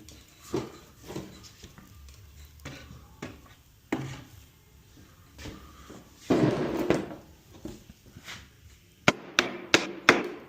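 Loose wooden side-chair joints being knocked apart during repair, heard as a series of sharp wooden knocks and taps spread through the clip, with a denser burst of impacts near the end.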